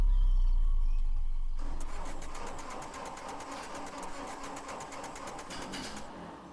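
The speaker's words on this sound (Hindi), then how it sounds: "इंजन स्टार्ट करने की कोशिश की" A car engine cranks repeatedly but fails to start, a sound effect in an animated Hindi horror story: a fast, rhythmic mechanical churning begins after a quiet lead-in and continues steadily without speech.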